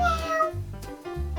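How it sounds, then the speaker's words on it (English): A cat meows loudly and close, two drawn-out tonal meows in quick succession, heard alone without speech. "kitty says meow"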